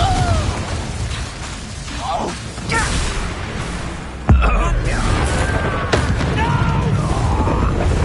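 An Incendio fire spell is cast in the video game Hogwarts Legacy, bursting with a sudden deep boom midway through a busy stretch of game sound effects, with voices and whooshes around it.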